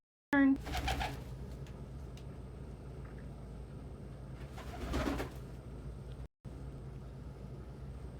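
Pigeons or doves coo and call at close range through a steady background hum, with a few louder bursts of activity and possible talk mixed in.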